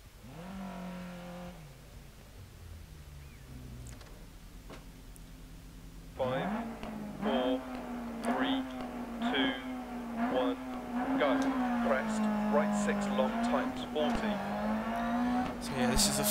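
A rear-wheel-drive rally car in the Dirt Rally racing game. A low engine idle rises into a loud, sustained, buzzing rev that swells and wavers as the car drives on.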